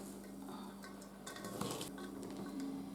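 Shredded cabbage and carrot being mixed in a bowl for pickled cabbage, with soft rustling and clinking of a utensil against the bowl, quiet and close, with no talking.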